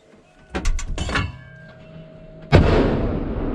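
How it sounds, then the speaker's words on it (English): Live-fire shots from a joint US–South Korean military firing exercise: a few sharp reports early, then one loud booming blast that rolls out and lingers. "Fire! Shot over."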